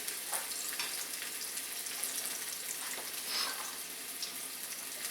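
Separated onion pieces frying on a stovetop burner for egg foo yung make a quiet, continuous hiss with faint scattered crackles and a brief higher sputter midway, heard alone without talk.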